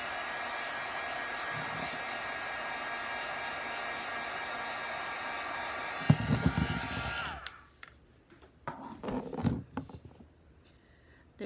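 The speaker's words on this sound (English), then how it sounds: "I'm going to use my heat gun to dry this" A heat gun blows a loud, steady roar while drying resin paint on a 3D fish, running continuously for about six seconds before cutting off, followed by brief handling clatter and rustling.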